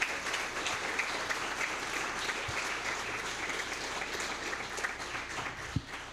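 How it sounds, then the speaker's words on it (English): Sustained audience applause at a school board meeting, a steady dense wash of clapping from a crowd that holds its level for about six seconds with a couple of brief thumps. "One more round of applause for Jordan and Hannah."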